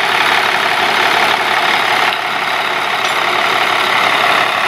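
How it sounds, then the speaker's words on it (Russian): A farm tractor engine running with a wide implement unfolding, a loud, continuous close-up drone with a broad roaring tone and slight shifts in level, no voices. "звук работы двигателя здесь слышно или нет, но работает он отлично"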